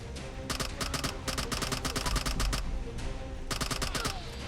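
Rapid bursts of CZ Scorpion Evo 3 submachine gun fire in Fallout 4, several short crackling strings of shots separated by brief pauses, loud and close with no talking.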